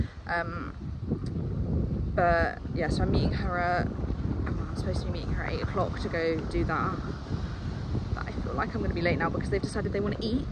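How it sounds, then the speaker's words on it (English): Gusty outdoor wind on Siargao island buffets the microphone, a low rumbling roar that runs steadily beneath a person talking throughout. "Excuse the wind, it's so windy."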